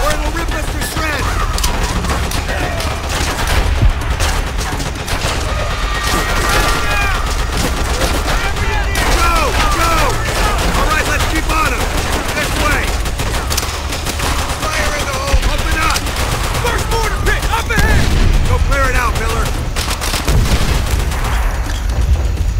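Constant loud machine-gun bursts and explosions from the Call of Duty White Beach, Peleliu battle, dense and unbroken, with shouted voices from soldiers mixed in throughout.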